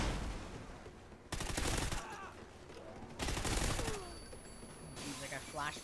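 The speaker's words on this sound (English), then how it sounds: "why am I shooting up in the air?" Bursts of assault rifle fire in Call of Duty Ghosts, several fairly loud automatic volleys separated by short pauses, with a voice talking quietly beneath and between them.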